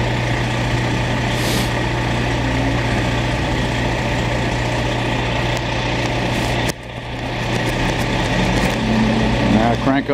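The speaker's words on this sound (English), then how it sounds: "Boy, that Western Star sounds good." A Western Star diesel truck rumbles at a steady, low idle close by on a snowy downtown Montreal street, continuous throughout, with a brief dip and swell near the end.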